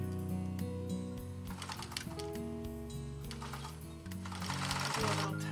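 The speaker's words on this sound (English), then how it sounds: "So I'm basically just stitching in place." A sewing machine stitches in place during free-motion quilting on a strawberry tea cozy, giving a steady, fast mechanical whir with rhythmic needle clatter, heard close and continuous with no talk.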